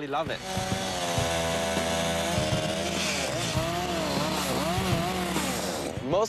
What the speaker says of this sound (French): J'utilise principalement ma tronçonneuse avec un guide de 24 pouces pour le défonçage.